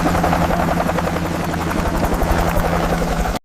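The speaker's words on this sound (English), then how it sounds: "Today, I'm going to my mother with this helicopter." A helicopter's rotor thuds and engine whine steadily and loudly throughout, close by and uninterrupted until it cuts off abruptly at the end.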